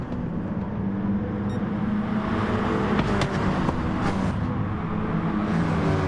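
Group 4 race cars roaring around a track in the racing game GT Sport, a loud, steady engine drone with faint passing swells from nearby cars.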